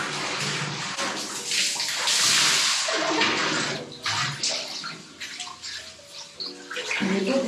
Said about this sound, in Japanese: まあ毎日僕はシャワーを浴びてます